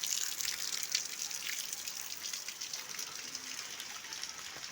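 Rainwater from a heavy downpour overflowing a tin roof gutter: steady splashing and trickling, a continuous wet hiss with scattered drips, fairly soft and unbroken throughout.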